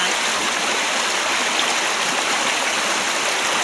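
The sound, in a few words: floodwater flowing after heavy rain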